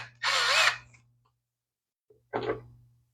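A screw gun drives a bolt into a lawn mower in two short, close whirring bursts separated by about a second of silence.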